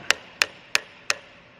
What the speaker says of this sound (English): take your hammer and just give it a little bit of a tap